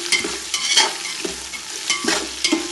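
A spoon stirs Kerala-style garlic pickle with curry leaves in a hot pan, giving rhythmic scraping strokes over a soft, continuous sizzle, close and fairly loud, with no voices.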